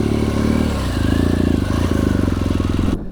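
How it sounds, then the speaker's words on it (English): An adventure motorcycle in first gear slips its clutch at the friction point under steady throttle, a close, loud, continuous engine drone with clattering texture that cuts off abruptly at the end. "So I'm in first gear here, and at this friction point, I'm just giving the throttle"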